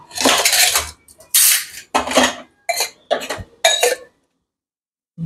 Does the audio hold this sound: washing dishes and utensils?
yes